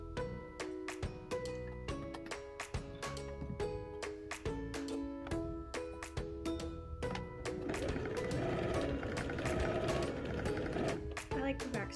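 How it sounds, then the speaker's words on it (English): A sewing machine runs quick basting stitches in short, rapid mechanical bursts of clicking and whirring, with brief pauses, then a longer continuous run near the end. "Then you're just going to baste those stitches down really quick."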